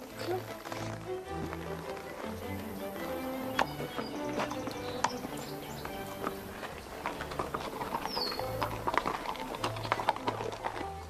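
Ponies walk along a path carrying three riders, their hooves clip-clopping in a steady, fairly close rhythm while people talk over them.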